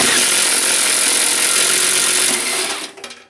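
A Milwaukee M18 Fuel impact driver drives a 3/4 inch Shockwave thin-wall hole saw through material, giving a loud, continuous grinding whir up close that cuts off abruptly near the end.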